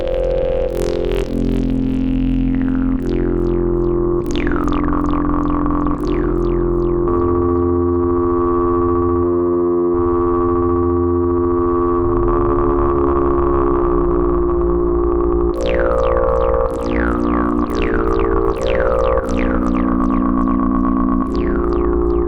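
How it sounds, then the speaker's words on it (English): A basic sine wave from an Elektron Syntakt drum machine has its filter modulated at audio rate, giving loud, sustained metallic tones with shifting harmonics, repeated zapping chirps and sharp pitch sweeps, with no talking. "we're working with a very basic sine wave here, and we're just modulating the filter at audio rate to get all these effects"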